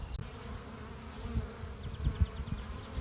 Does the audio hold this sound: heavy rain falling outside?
no